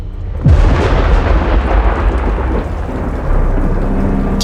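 A loud, close crack of thunder in the Colombian mountains that breaks suddenly and rolls on as a deep rumble, with heavy rain hissing steadily underneath.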